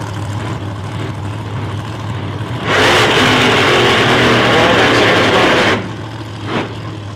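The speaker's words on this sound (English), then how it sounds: "gets himself a burn on the tyres" A nostalgia drag race car, the little gangster, does a short tyre burnout: a steady engine drone swells into a loud three-second roar of revving and screeching tyres, then drops back to idle with one brief blip.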